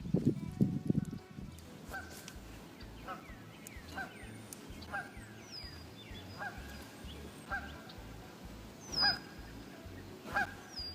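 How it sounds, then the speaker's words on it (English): A goose honks again and again at close range, in loud bursts over a low, pulsing background outdoors during a fishing outing. "That goose, I can't stand it."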